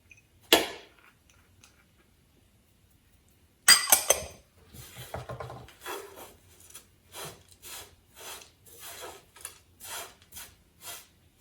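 Crispy toasting vermicelli and coconut are pushed around a dry pan, a scraping rub followed by a regular run of short, dry rasping strokes after a quiet start.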